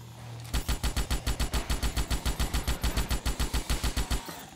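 Rapid automatic gunfire in the Starship Troopers video game, a long unbroken burst of about two dozen loud, evenly spaced shots lasting several seconds, after a brief low rumble.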